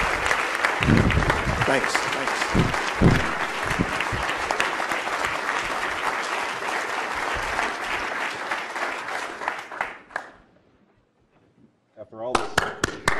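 A leadership forum audience applauds loudly for about ten seconds, with some sharp individual claps standing out. The clapping fades to near silence, then a brief burst of sound returns as someone speaks.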